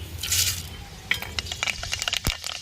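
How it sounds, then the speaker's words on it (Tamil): Fenugreek seeds going into hot oil in a cooking pot for fish curry, a soft burst of hiss followed by scattered light crackles, clicks and metallic clinks of the pot and spoon, close and fairly quiet, no talking. "எண்ணெய் சூடாச்சுங்க, வெந்தயம் போட்டுக்கிறோம்."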